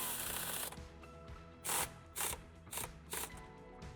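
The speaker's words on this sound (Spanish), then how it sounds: "lo que sí que vamos a poner son las 4 masas con la ayuda también del tornillo autorroscante" Self-tapping screws being driven to fasten ground wires on a Volkswagen Transporter during a towbar and wiring kit install, heard as a steady mechanical whir followed by four short, close bursts of driving at a loose rhythm.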